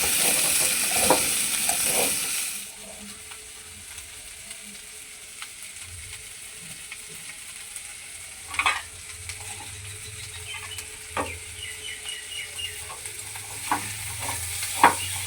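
Taro curry being stirred in a pan, with intermittent scraping and clinking strokes over a faint low sizzle, fairly quiet and with no talking.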